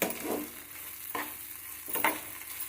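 Broad beans (goruchikkudu) frying in a pan with chili powder, a soft steady sizzle punctuated by three scraping spatula strokes as they are stirred, fairly quiet and close.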